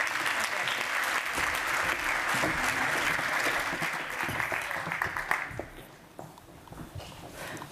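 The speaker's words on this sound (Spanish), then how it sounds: "un fuerte aplauso para todos ellos" An audience applauds the participants of a round-table panel on dual vocational training, a dense, sustained clapping that fills the room and then thins out and fades toward the end.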